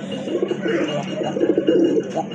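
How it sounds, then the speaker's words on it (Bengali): A large deshi pigeon coos nearby in repeated, throaty rolling phrases, loud and close, with a hint of background voice. "ডাকতেছে কিন্তু খুবই চমৎকার ডাকে, অনেক বড় সাইজের কবুতর"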